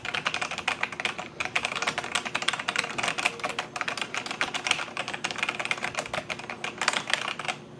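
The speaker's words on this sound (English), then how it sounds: "you can hear the sound of the keyboard here. So, it's a little clicky" Rapid clicky keyboard typing, close and steady, with dense bursts of keystrokes and brief pauses, no voices.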